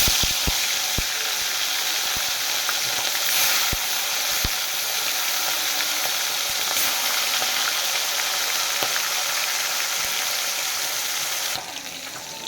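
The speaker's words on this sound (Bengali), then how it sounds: "তেল আমার গরম হয়ে যায় মাছটাকে ভেজে নেব" Turmeric-rubbed catla fish pieces fry in hot oil with a loud, continuous sizzling hiss. A few sharp pops and crackles come early, and the hiss eases slightly near the end.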